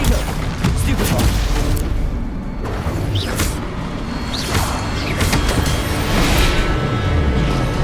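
In Hogwarts Legacy spell combat, loud magical blasts, booms and whooshes overlap in a dense, continuous barrage with no pause.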